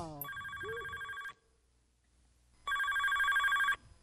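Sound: telephone ringing

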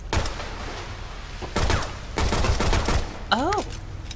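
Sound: gunfire from shooting in video game Shadow Complex

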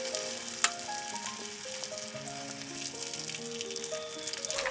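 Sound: tuna fish frying in oil

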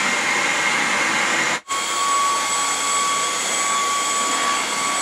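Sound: Xiaomi robot vacuum cleaner running

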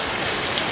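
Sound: waterfall

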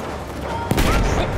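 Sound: enemy machine gun fire in video game Battlefield 1

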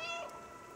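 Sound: cat meowing in the video game Stray

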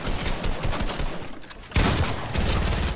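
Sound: gunfire in a video game

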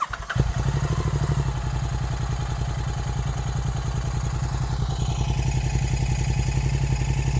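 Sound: Royal Enfield 650 twin motorcycle idling with Gursewak exhaust

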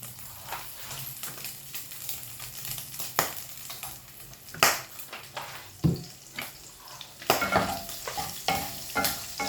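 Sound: pork frying in cooking oil in a pan

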